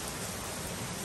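Rain falls steadily in a continuous, even hiss, with no break, no voices and no other distinct sounds.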